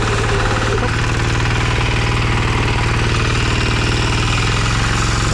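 A Kentavr MB 2060D walk-behind diesel tractor with a tiller attachment runs loud and close, a steady low rhythmic engine chug and knock with heavy vibration throughout, oil leaking from its housing.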